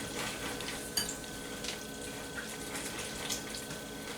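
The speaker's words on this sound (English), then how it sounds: "Continuing to stir." Beet salad dressing being stirred in a bowl, a soft steady wet scraping and swishing with a brief clink near the start, fairly quiet and without talk.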